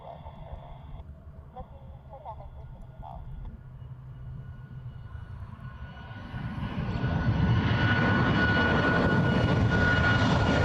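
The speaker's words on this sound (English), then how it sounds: "Southwest that's going to do a short takeoff from Echo on 8 left" Southwest jet airliner on a short takeoff from runway 8 left at Honolulu airport, its engine roar building from a distant rumble to a loud, broad sustained roar over the final seconds, heard from outdoors.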